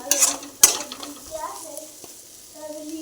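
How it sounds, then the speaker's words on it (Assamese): A spatula scrapes and stirs potato and carrot frying in a pan, with a sharp clatter near the start and a soft sizzle beneath. Faint background voices are heard. "ভাজি অলপ বনাই আছিলোঁ লেচেৰা আলু আৰু গাজৰৰ ভাজি"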